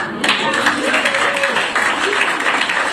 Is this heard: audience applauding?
yes